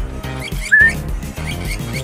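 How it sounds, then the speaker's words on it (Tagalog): A whistle blown to call a pet African lovebird gives one short rising tone, loud and close, over rhythmic background music. "itong pito lagi lang nasa atin to para nakikita niya lagi"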